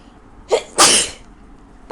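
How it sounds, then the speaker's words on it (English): Two sneezes from someone suffering a bad cold, a short sharp one followed at once by a louder, fuller explosive sneeze, close and alone with no talk. "Sneezing my ass off because I have the worst cold ever."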